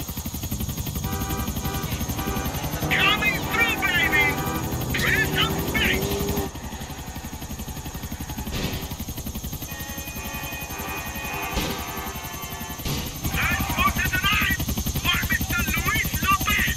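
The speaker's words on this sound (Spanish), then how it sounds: "Hostia, sube el helicóptero de Yusuf." A helicopter in GTA IV lifts off with a loud continuous rotor and engine drone throughout, while someone talks over it.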